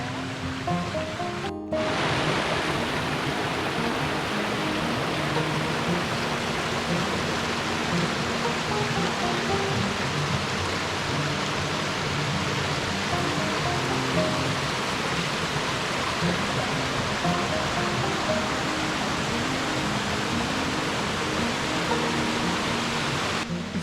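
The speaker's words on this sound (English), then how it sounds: "A little waterfall there." Small waterfall on a creek along the Track and Tower Trail in Algonquin Park, a steady, loud rushing roar of falling water that fills the whole stretch without a break after a brief quieter start.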